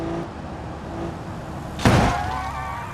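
A car crashes into a block in BeamNG Drive: one sharp broadband impact near the midpoint rises out of a steady engine-like hum, then a metallic ring trails off behind it.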